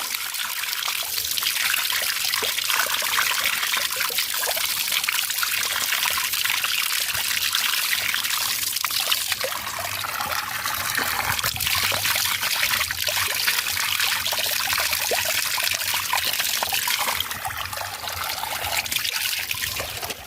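Water trickles steadily from a water source in a village, a continuous close splashing dribble over faint low rumbling, with no talk.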